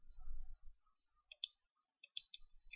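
Computer mouse clicks during SolidWorks modelling: a few quiet single clicks at intervals, then a quick cluster of three or four near the end, crisp and close.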